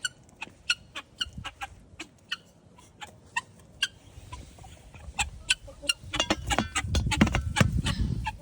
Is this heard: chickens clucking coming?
yes